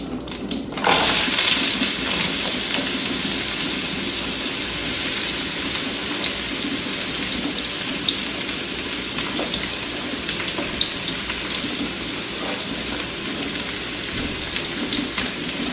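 Sliced white onion drops into hot oil with popped mustard seeds, setting off a sudden loud burst of dense, hissing sizzle that holds steady and close for the rest of the stretch, with no talk.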